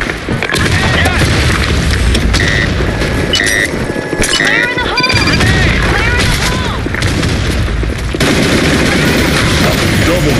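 Grenade blasts and rapid gunfire in a shooter video game, loud booms and sharp bursts of shots packed densely together, with metallic clinks, game effects and voices talking over the chaos.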